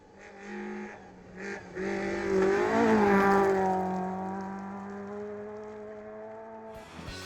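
A Peugeot 205 rally car accelerates hard along a special stage at the Speyside Stages, its engine climbing loud and close through the revs, then fading as it pulls away, with no talking.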